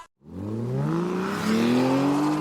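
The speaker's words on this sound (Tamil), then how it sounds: "பைக் சவுண்ட் வேற கேக்குதா" A motorbike engine roars up close, its pitch climbing steadily as it accelerates past, loud and alone after a brief moment of silence.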